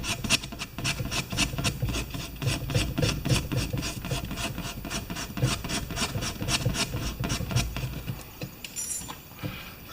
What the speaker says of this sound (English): I'm going to sand it a little bit more.